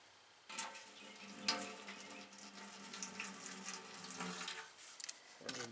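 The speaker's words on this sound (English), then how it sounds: "I'm gonna dump in some vinegar here and see if it's going to leak out." Vinegar is poured into a Ditch Witch H12 part to check for leaks, making a close, continuous liquid trickle and splash with a few sharper drips.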